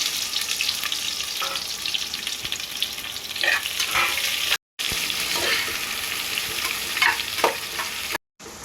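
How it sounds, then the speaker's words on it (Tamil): Three large sliced onions sauté in a pan for a village-style broken-rice upma, giving a steady close sizzle with repeated scraping stir strokes throughout and no voices. "வெங்காயம் வந்து இந்த அளவுக்கு பொன்னிறமாக வதங்கிடுச்சு."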